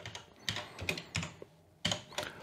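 Keys clatter on a computer keyboard in short bursts of several quick presses with brief pauses between, close up and fairly quiet, with no talking.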